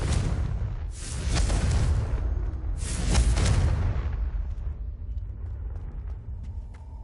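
Confringo spell blasts in Hogwarts Legacy, two loud booming bursts about two seconds apart, each followed by a deep rumbling tail that slowly fades, with no talking.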